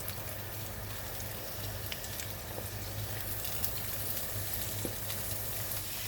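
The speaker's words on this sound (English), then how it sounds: "I'm gonna throw some onions in here too because I love onions" Onions sizzle and fry in a hot pan at home for breakfast, a steady close hiss with faint crackles and a low hum beneath, no talking.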